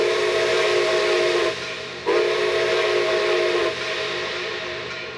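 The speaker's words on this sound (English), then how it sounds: "Engineer Ross Rowland gives 2 blasts on the whistle and slowly accelerates the massive Greenbrier from the number 2 platform" The C&O J3a Greenbrier steam locomotive sounds two loud, close whistle blasts, a long chord-like wail that breaks off briefly, then a second sustained blast trailing into hissing steam.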